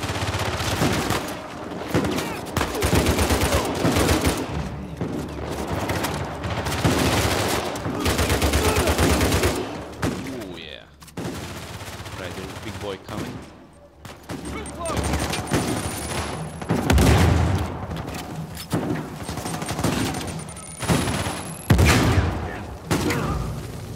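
Heavy gunfire in the Uncharted 4 video game, repeated loud bursts and booming shotgun blasts across a chaotic firefight, with someone talking between volleys.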